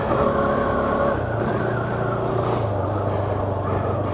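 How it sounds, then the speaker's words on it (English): A KTM 390 Duke motorcycle engine drones steadily while riding, a loud, continuous hum under wind rush that shifts slightly in pitch as speed changes, with no talking. "I don't like lugging this engine."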